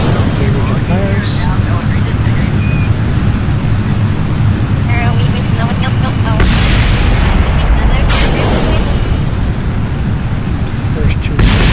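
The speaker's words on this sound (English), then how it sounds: "as we lose the larger solid rocket fuel boosters, damage and fires" Solid rocket boosters separating in Kerbal Space Program amid damage and fires, a loud continuous roaring rumble with bursts of crackling blasts, while someone talks over it.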